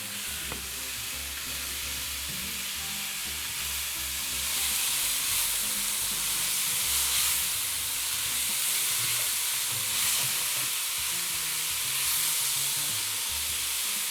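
Chopped onions frying in a pan for Rahmgeschnetzeltes, a continuous close sizzle with soft stirring scrapes, steady and fairly loud throughout, no one speaking.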